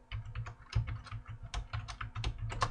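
Fast typing on a computer keyboard during HTML coding, with quiet, close, irregular clicks and clacks of keys in quick bursts.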